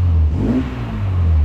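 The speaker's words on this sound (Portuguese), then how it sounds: "Deixa eu dar uma aceleradinha pra vocês escutar o motor" A 1985 Volkswagen Gol GT's engine revs up loudly and steadily, a low throaty roar that rises in pitch and then settles back to a rumbling idle.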